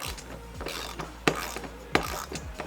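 A 10mm wrench tightens bolts on a roof rack fitted to a double cab Toyota Tacoma, giving quick repeated ratcheting clicks with two sharper metallic knocks, close by and with no talk.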